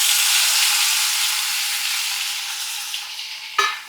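Chopped tomatoes hit hot oil with garlic for a Kannada-style tomato mint chutney, a loud, steady close sizzle that slowly eases, then a sharp clink of a utensil against the pan near the end.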